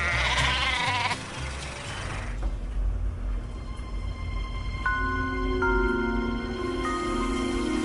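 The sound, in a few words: sheep bleating on a farm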